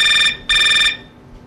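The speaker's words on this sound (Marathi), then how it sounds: "आता कोणाचा फोन?" A phone's ringtone rings loudly in a household scene from a Marathi TV serial, two bright electronic bursts with a short gap between them, then it cuts off.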